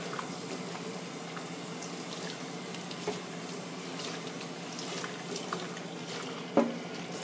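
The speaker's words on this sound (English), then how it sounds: "And I'm going to rinse it with cool water." Cool tap water runs steadily into a sink while a curly Brazilian virgin hair weave is rinsed, a continuous close wash of flowing water with faint splashes and no talk.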